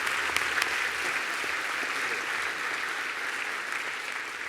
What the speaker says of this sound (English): Yes, an applause.